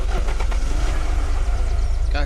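A car engine in the video game Unturned starts and runs with a loud, continuous low rumble for a couple of seconds, with brief voices at the start.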